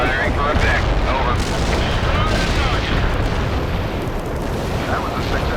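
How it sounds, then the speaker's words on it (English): Artillery barrage in the strategy video game World in Conflict, a dense continuous roar of rumbling explosions and booms, loud and sustained without break. "Artillery barrage in for full effect"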